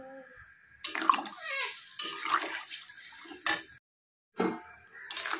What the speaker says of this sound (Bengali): এখন আমি এর মধ্যে দিয়ে দিব ঝোল